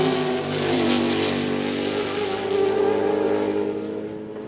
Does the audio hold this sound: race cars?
yes